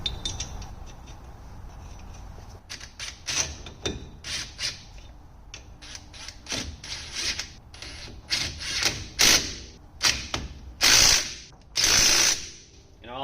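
Lug nuts being tightened onto a wheel over a hub-centric adapter, heard as a series of loud, close ratcheting and clicking bursts that grow denser and louder toward the end, with rubbing and mechanical rattles between them.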